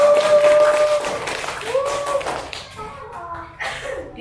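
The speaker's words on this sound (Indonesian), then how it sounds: "Iya, tepuk tangan dong." Students in a primary classroom clap together, a dense burst of applause that thins out toward the end, with voices mixed in.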